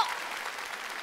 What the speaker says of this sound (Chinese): 掌声没停